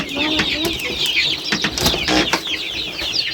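Native deshi chickens, pure local birds, cluck and chatter continuously in a rearing shed, fairly loud and close, with brief flurries of wing flapping mixed in.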